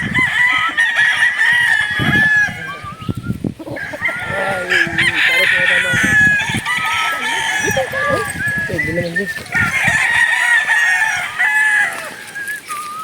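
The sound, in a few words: chickens and rooster crowing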